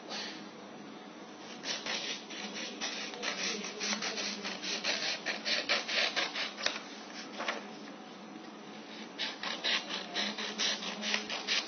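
Colored paper being cut with scissors for a picture mounting, a continuous run of close, rapid rasping snips and rustles with a few short pauses.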